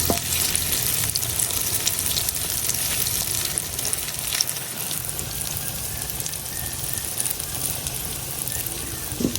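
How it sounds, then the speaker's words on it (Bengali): An egg and potato mixture fries in hot oil with a loud, unbroken, crackling sizzle that fills the whole stretch close up, with no talking. "তেল গরম হয়ে গেছে, এখন আমি ডিম আর আলুর যে মিশ্রণটা বানাই রাখছি এটা দিয়ে দেব।"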